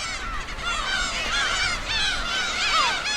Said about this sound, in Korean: 독도는 괭이 갈매기들의 땅입니다.